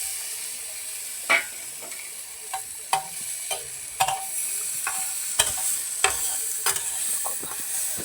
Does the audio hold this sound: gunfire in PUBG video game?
no